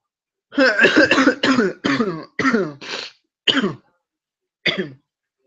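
In a living room, a string of harsh, voiced coughs and throat-clearing bursts, about eight in quick succession, then two more spaced out after a pause, close and loud.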